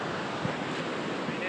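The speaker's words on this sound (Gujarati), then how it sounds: "પાણી હવે વહેતું જોરદાર બાકી છે ભાઈ" Strong flowing water rushes in a dense, steady roar outdoors under gathering rain clouds, blended with wind buffeting the microphone for a brief moment.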